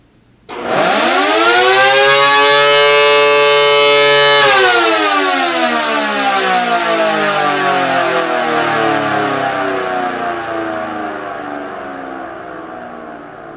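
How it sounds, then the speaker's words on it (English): A loud homemade electronic siren winds up sharply, holds a steady piercing wail for a few seconds, then slowly winds down and fades out. "And now, the loudest siren I ever made"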